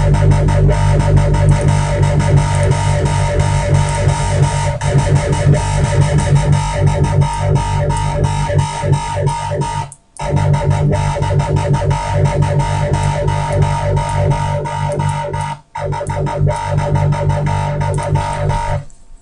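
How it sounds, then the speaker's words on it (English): A dense, distorted dubstep synth tone from Native Instruments Massive swirls with a sweeping flanger effect, playing loudly and continuously, with two brief dropouts partway through. "there's the flanger on it"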